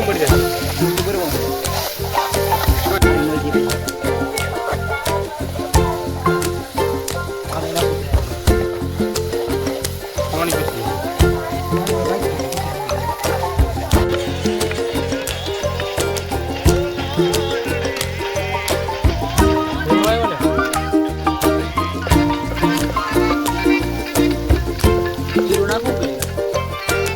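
A vaghar of spices tempering in hot oil gives a lasting sizzling crackle, heard throughout beneath loud music and intermittent voices.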